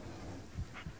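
A dog pants in the Blair Witch video game, a short, soft, close breathy pant with a faint whimper-like tone.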